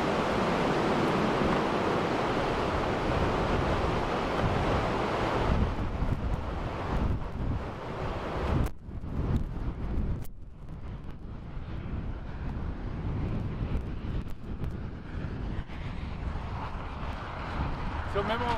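Strong wind buffets the microphone on a golf course during a storm, a heavy continuous rumble with an umbrella flapping and snapping intermittently, as someone talks through it.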